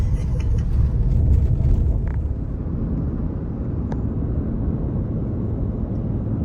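A car drives along a dirt road through rural scenery, a steady low rumble of engine and tyres heard from inside the vehicle, loud and continuous.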